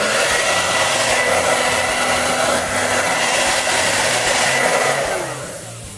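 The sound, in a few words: heat gun warming a Mossy Oak vinyl gun wrap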